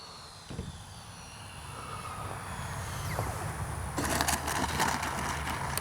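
An RC L-39 model jet's turbine throttles up on a runway, a steady whine and roar that swells louder toward the end, continuous and fairly near.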